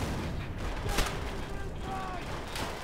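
Gunfire in Call of Duty: World at War near the Reichstag: muffled distant shots and booms, with one sharper report, sit low under a faint game soundscape.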